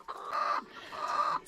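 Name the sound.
egg-laying chickens clucking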